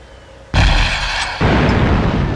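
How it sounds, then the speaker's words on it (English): In the video game Tom Clancy's Ghost Recon 2, an M3A2 MAWS shoulder-fired artillery launcher goes off with a sudden loud, booming blast, followed by a second rumbling surge that keeps roaring to the end. "The M3A2 Maws is shoulder-fired artillery."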